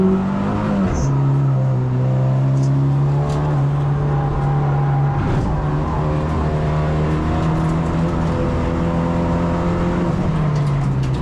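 A Lynk & Co 03+ engine revs hard on a racetrack at Ningbo with a slight misfire, a steady loud drone holding through shifts with brief dips and rising pulls, heard close from inside the car.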